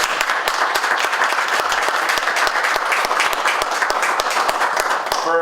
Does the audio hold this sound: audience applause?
yes